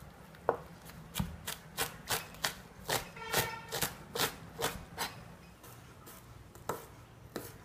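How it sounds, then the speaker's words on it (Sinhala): A knife slices red onions into round rings on a cutting board for gotukola sambol, about a dozen crisp, evenly paced cuts landing close and clear with no talk over them. "මේ රතු ලුණු රවුම් පෙති පෙති මේ වගේ මෙහෙම කපනකොට"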